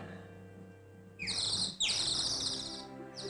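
A nightingale sings in an outdoor scene of a 1962 comedy film, with several bright, fairly loud high chirping phrases that come in bursts above a low steady hum and faint background tones.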